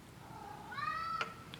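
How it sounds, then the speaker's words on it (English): A cat gives a single rising meow, moderately close over a soft room hum, with a couple of faint clicks afterward. "That is a cat. That is not a cat hallucination."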